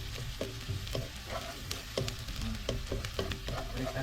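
Ingredients for pancit bihon sautéing in a pan, a continuous sizzle broken by repeated scraping and stirring clacks of a utensil against the pan, close and fairly quiet, with no talking.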